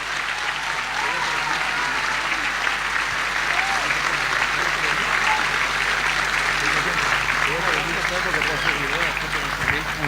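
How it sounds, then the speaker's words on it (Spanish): An audience at a Catholic priest's question-and-answer gathering gives sustained, even applause that fills the whole stretch, with a few voices mixed in. "Un fuerte aplauso para estos hermanos."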